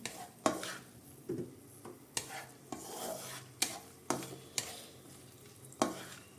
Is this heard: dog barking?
no